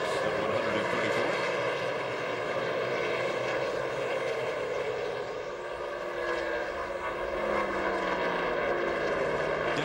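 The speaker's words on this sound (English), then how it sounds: "Green flag flies. We're back to racing as they start lap 6 of 134." Race trucks roar past at speed on a track during a 2003 Ford 200 event, a dense sustained engine drone with layered harmonics that dips briefly mid-clip before swelling back, no talk over it.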